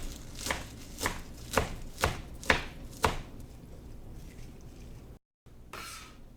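Kale is chopped finely with a knife on a cutting board, six crisp evenly spaced cuts close up, followed by quieter scraping and a brief gap.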